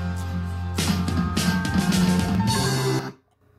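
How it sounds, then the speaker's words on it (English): A song's drums play back through a speaker in a room with noticeable echo, steady beats and full music for about three seconds before cutting off abruptly into near silence. "The drums kick in right around here."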